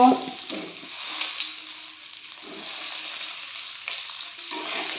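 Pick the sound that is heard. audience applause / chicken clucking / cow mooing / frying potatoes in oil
frying potatoes in oil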